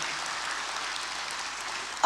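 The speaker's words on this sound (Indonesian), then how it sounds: "Tepuk tangan yang meriah, saudara." A church congregation applauds, a dense and steady clatter of clapping that fills the space evenly and ends in a short louder burst.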